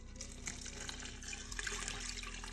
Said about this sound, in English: then around 1000 grams of room temperature water in which I dissolved 100 grams of sourdough starter